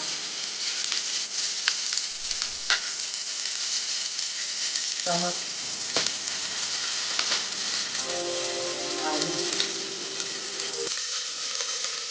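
Cauliflower, beetroot, potato, peas and carrot frying in oil with cumin for street-style pav bhaji, a soft continuous sizzle with scattered clinks and scraping utensil sounds, plus brief tonal clatters in the middle.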